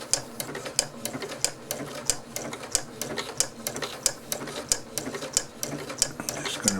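A Janome 8077 sewing machine with a daisy foot attachment stitches fabric, a loud, close, fast mechanical chatter with an even rhythmic tick over a steady motor whir.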